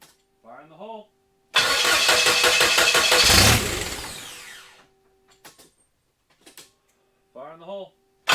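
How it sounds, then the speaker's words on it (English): A car engine cranks and starts after a cam position sensor replacement, a loud rapid churning burst that settles and fades, with someone talking briefly before and after. "I tried getting the engine to start again."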